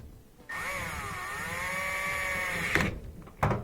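A DeWalt power tool whirs steadily for about two seconds while working on a Kenmore dryer, a close, even motor drone that then cuts off, followed by a couple of clicks and clunks.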